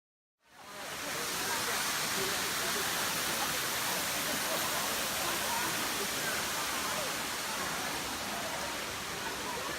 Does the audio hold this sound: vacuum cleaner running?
no